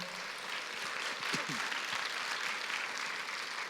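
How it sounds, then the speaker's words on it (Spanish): A church congregation bursts into loud, sustained applause from many hands, steady and dense throughout, with a few voices and shouts briefly rising in the middle. "denle ese fuerte aplauso"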